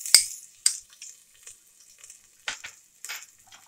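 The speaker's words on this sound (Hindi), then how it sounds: "इसको थोड़ा सॉटे कर लेंगे।" Onion with ginger-garlic paste sautéing in a pan for Punjabi chole, giving soft intermittent sizzles and bursts of stirring scrapes at close range, with quiet gaps between.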